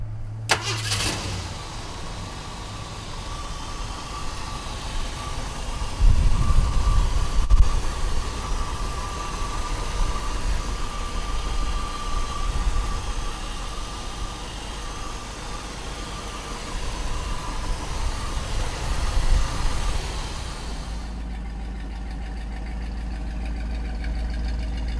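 A 1968 Ford Mustang engine cranks and catches, then settles into a steady, close rumbling idle with a few revs in the middle, running for about twenty seconds before cutting off.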